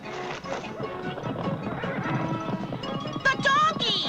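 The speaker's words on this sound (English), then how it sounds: "The donkeys!" Donkeys bray and whinny amid clattering hooves in a Smurfs cartoon, a busy, loud mix of animal cries and clip-clop with crashing noises and cartoon voices.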